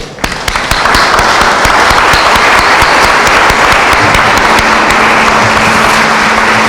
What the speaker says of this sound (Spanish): Viva Manuel Carlos Piar, démosle un aplauso a nuestro héroe.